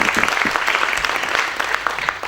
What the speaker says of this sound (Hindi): तो जोरदार तालियों के साथ हम मीत को वेलकम करते हैं